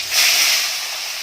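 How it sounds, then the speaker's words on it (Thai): A sharp, loud hiss of fresh fish hitting hot oil in a pan, sizzling strongly at first and then settling into a steady fry. "นี่คือเป็นการทอดปลาสดนะครับ"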